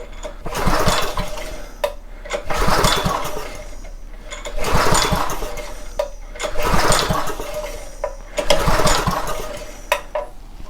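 Homelite 2500 watt generator pull-started again and again: five loud, rhythmic bursts of cranking and sputtering engine noise, each lasting about a second, with brief lulls between pulls and no sustained running.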